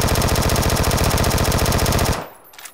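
Rapid, sustained automatic gunfire from a PUBG match, loud and close with a steady rattling rhythm for about two seconds before cutting off abruptly into quiet.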